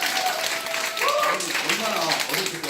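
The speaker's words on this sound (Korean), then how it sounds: "박수 세게 쳐주세요." Audience clapping hard, a dense, steady patter of many hands lasting a few seconds while a voice talks over it.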